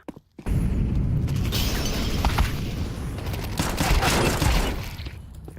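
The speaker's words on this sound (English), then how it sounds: "Incendiary out." An incendiary grenade thrown in Counter-Strike 2 during a custom wingman map match, a sustained loud burst of crackling, roaring fire and clattering that starts abruptly after a brief silence and holds steady to the end.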